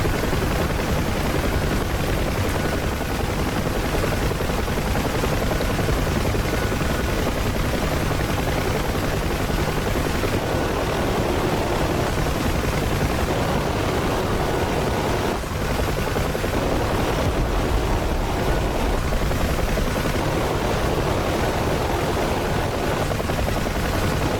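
A Huey UH-1 helicopter in combat flight in the DCS simulator, with a steady, loud rotor and turbine drone that runs unbroken for the whole stretch, no voices over it.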